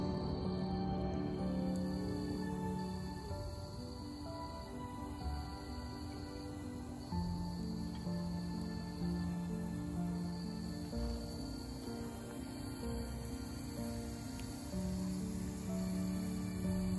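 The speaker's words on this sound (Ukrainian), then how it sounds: "Цвіркуни заспівали так гучно." Crickets chirping loudly on a quiet evening in a backyard garden, a dense continuous trilling chorus that holds steady throughout with no talk.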